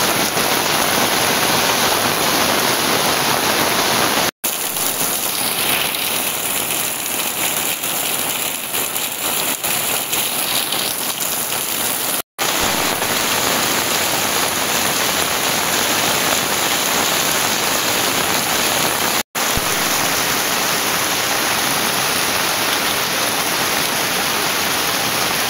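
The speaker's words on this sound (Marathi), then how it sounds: "पाऊस बघा किती आहे." Heavy monsoon rain pours down over a Konkan village in a dense, steady roar that never lets up, broken only by a few abrupt momentary dropouts, with no voices.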